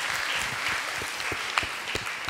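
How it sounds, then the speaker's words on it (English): Audience at a literary conversation event applauds a 13-year-old questioner. The clapping is dense and steady throughout, with a few sharper claps standing out and no speech over it. "applause for him"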